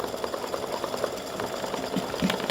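An embroidery machine stitches flowers onto card stock with a steady, rapid mechanical whirring and rhythmic needle clatter, close and continuous, with no voices.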